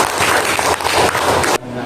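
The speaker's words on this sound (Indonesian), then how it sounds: "Beri tepuk tangan untuk teman-teman kita ini" An eighth-grade classroom claps for classmates during an Islamic cultural history lesson: dense, steady applause that cuts off abruptly just before the end.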